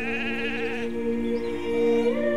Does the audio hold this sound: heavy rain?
no